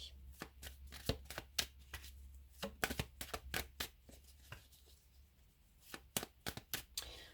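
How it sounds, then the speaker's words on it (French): Tarot cards are riffled and snapped in quick, crisp bursts, shuffled steadily over several seconds with brief pauses, close and fairly quiet against a low hum. "Je vais rajouter 3 cartes."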